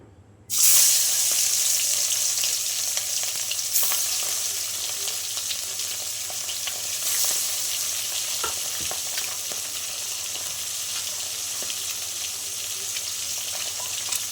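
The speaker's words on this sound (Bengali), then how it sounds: "আমি মাছ কটা আগে ভেজে নেবো" Bhola fish pieces fry in hot oil in a wok, a loud crackling sizzle that bursts in sharply then settles into a steady bubbling hiss, with faint clinks of stirring and no speech.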